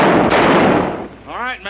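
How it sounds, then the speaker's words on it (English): Gunfire in a 1940 western film, a loud blast at the start followed by a noisy rumbling tail, with a voice briefly heard near the end. "You better fire a couple more shots."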